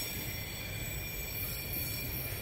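Freight train wagons of the HFE type on a VLI line in the Serra do Mar roll steadily along the rails, a continuous rumbling with a high wheel whine above it, close by and unbroken, with no talk.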